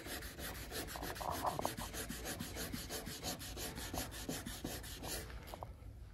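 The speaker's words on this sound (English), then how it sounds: "Hopefully we'll be able to just eliminate that with just some wet sanding here." Rusty bodywork on a Porsche 911 is wet-sanded by hand in quick, regular back-and-forth rubbing strokes, close and fairly quiet, with no one speaking.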